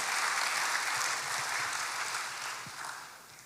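Congregation applause in a church service, a steady wash of clapping from a crowd, moderately distant, gradually tapering off toward the end.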